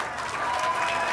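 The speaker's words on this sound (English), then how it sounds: "how about a nice round of applause for our two finalists?" A crowd at a boys' state basketball finals applauds the two finalists, with steady, dense clapping filling a gym, loud and close throughout the short moment.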